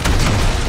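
A loud, dense explosion rumbles with a heavy low-end boom in the shooter Call of Duty: Modern Warfare Remastered, filling the whole short moment with no voices over it.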